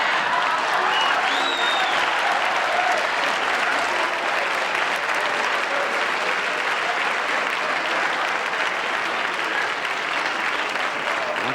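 A television studio audience at a late-night talk show cheers and applauds, a dense continuous roar of clapping holding steady at close range throughout.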